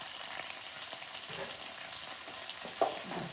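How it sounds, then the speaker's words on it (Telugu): Fried paneer cubes dropped into a spiced chilli sauce in a pan for restaurant-style chilli paneer, giving a steady low sizzle with light stirring scrapes and a small splash near the end. "ఇప్పుడు ఇందులోకి మనము ఫ్రై చేసుకున్న పన్నీర్ వేస్తున్నాం."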